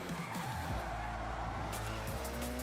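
A car in the Forza Horizon racing game slides and skids with a steady engine drone and tire squeal, a loud continuous wash of motor and road noise.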